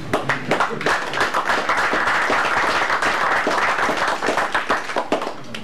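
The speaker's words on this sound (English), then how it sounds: "we should all really give them another round of applause" A room full of people at a board of education meeting breaks into a round of applause, dense and close, with individual claps audible and holding steady before easing slightly at the end.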